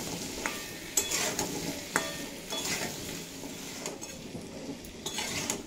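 Raw pumpkin being fried and stirred in a pan with turmeric and salt, steady sizzling under repeated scraping strokes of a spatula, close and moderately loud, no talking.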